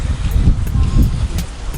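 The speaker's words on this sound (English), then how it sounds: "Sorry about the wind, guys." Outdoor wind buffets the microphone in a driveway, heavy low rumbling gusts that swell and fade every half second or so, with a voice faintly underneath.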